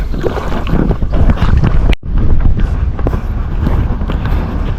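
Someone wades through chest-deep floodwater on the way to a fishing spot, with loud continuous sloshing and churning water plus wind buffeting the microphone close up, broken by a brief dropout.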